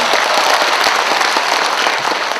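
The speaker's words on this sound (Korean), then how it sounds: "두 사람한테 박수 한번 주면 안 되겠어요?" A crowd at a civic association's founding ceremony in Gwangju applauds loudly and densely, a continuous roar of many hands clapping close and full throughout.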